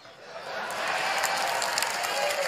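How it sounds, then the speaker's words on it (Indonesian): Audience applause at a political gathering, a broad wash of clapping that builds over a couple of seconds and holds steady, with a faint voice underneath. "Oh, tepuk tangan ya mereka ya guys."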